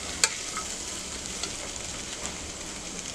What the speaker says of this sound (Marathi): फरसबी चांगली परतून घेऊया.